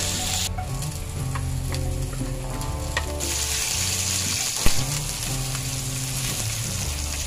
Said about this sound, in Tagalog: Pagkatapos nating magpainit ng sapat na mantika, ang una nating ilalagay ay yung dinikdik na luya.